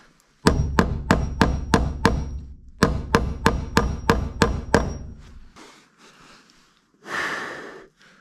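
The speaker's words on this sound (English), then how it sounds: "a metal hammer is not a good idea in the wintertime" Two sets of rapid, evenly spaced metal hammer blows ring out sharply in winter, about a dozen strikes in all, followed by quiet and a heavy exhale.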